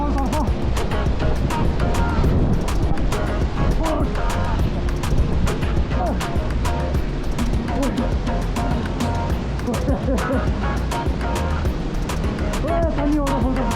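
Steady rushing water from a waterfall near a living root bridge and blue lagoon in Meghalaya, a loud continuous roar filling the whole clip, with people talking over it.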